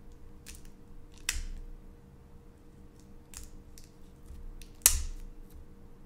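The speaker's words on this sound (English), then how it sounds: "I'm gonna have to try and very carefully cut this open" A knife slices into the plastic wrapping on a Magic: The Gathering Duel Deck, Divine vs Demonic, giving two sharp, close snips a few seconds apart with faint scratchy scraping in between.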